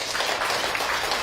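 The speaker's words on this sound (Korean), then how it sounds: "박수 한번 쳐주시고요" Audience applause in a lecture hall during a humanities talk, a brief, dense burst of clapping that is steady and fairly loud throughout.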